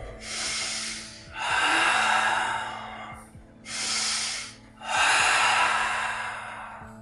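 Deep, audible breaths drawn in and pushed out during a warrior yoga session: several long, airy inhales and exhales, close and fairly loud, each lasting a second or two with short pauses between.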